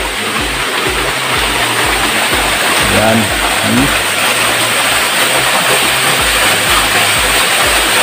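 Clear mountain water rushes at a waterfall in Simbalan, Buenavista, Agusan del Norte, making a steady, loud broadband roar throughout while someone talks briefly over it.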